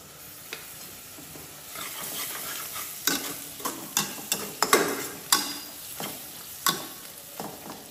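Garlic paste sizzles and frying in a pan with turkey eggs, with a steady crackle broken by repeated sharp clicks and scrapes of a spoon stirring, close and moderately loud, no talking.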